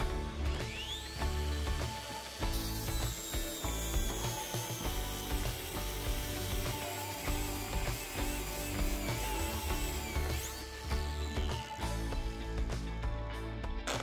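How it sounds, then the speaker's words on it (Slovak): Narex ABU 125-600 B 60V 1000W cordless angle grinder with a fiber disc pressed onto a wide workpiece, a loud continuous whining grind whose pitch wavers as the motor holds speed under load, close and unbroken throughout. "Je počuť, ako sa krásne snaží dorovnávať otáčky, aby nezastavila pri brúsení."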